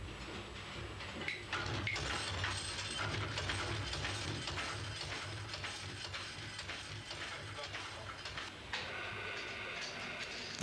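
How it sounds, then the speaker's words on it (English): A hand-operated card punching machine cuts weaving pattern cards for a silk loom, giving faint, repeated mechanical clicks and clacks over a quiet room hum, with soft irregular knocks spread across the stretch. "The blank card is inserted into the front slot and gradually fed past a set of punches, which are depressed by the operator as required."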